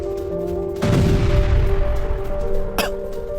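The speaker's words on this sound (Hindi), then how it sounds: "हमास लड़ाके ने आईडीएफ पर अंधाधुंध फायरिंग की और आईईडी अटैक भी किया" Combat gunfire in Gaza as Hamas fighters fire on IDF troops: a loud, sustained burst of shooting over a steady electrical hum, then one sharp crack shortly after it fades.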